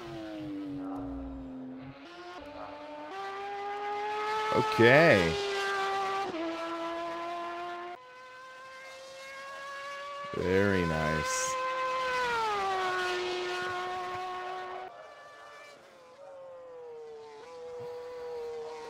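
Porsche race car exterior engine note in the rFactor 2 racing sim, tonal whine rising and falling through gear changes with two sharp revving bursts, fairly loud, with brief talk over it.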